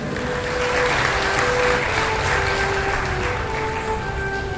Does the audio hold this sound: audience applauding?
yes